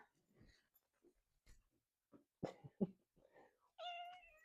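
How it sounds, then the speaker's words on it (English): A pet cat indoors gives a clear meow near the end after scattered small rustles and breathy sounds, close and fairly quiet. "That's my kitty cat."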